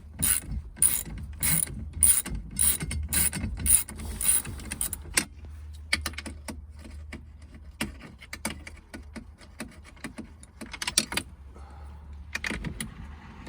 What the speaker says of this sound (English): I'm going to take off these two 17mm bolts, and hopefully the seat kind of falls out.